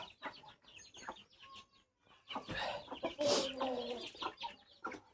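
Chickens and guinea fowl cluck and call in a farmyard, several short bursts spread across the scene, moderately near, with a louder flurry of calls in the middle.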